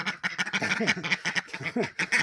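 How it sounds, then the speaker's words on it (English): Ducks in a poultry farm's bird pens quack loudly and continuously, several birds calling in quick overlapping bursts close by, with no talk. "Apologise for the ducks."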